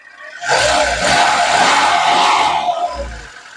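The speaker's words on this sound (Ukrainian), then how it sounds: "от завив, завив сам двигун, це значить йому достатньо" A VAZ car engine revs hard just after its ignition timing is set following a Hall sensor and distributor replacement, a loud sustained roaring rev lasting about two seconds before dropping back, with no talk over it.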